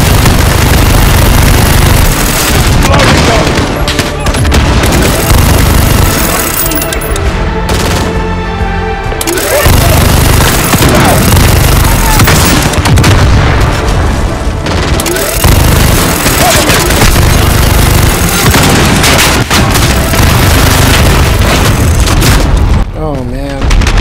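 A minigun in Call of Duty Modern Warfare (2019) roars in long, sustained bursts mixed with heavy booming explosions, very loud and dense throughout, with brief lulls and voices speaking amid the chaos.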